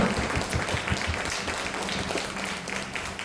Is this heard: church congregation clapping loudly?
yes